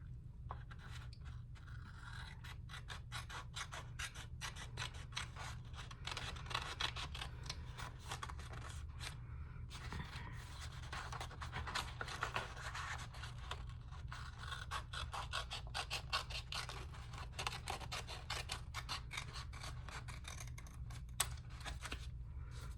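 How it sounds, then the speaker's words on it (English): Scissors cutting paper for an art collage, a long run of close, quiet snips and crisp scraping strokes over a low steady hum, with no voices. "So what I'm doing is I'm cutting this off right here."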